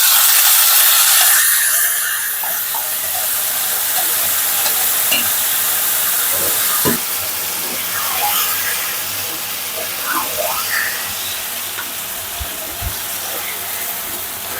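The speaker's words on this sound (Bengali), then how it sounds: "এখন কচু শাকটা দিয়ে দেবো।" Taro leaves tossed into hot oil with fried onion and garlic, giving a steady close sizzle and hiss while a spoon stirs with scraping clinks, the frying loudest at first then settling into a continuous crackle.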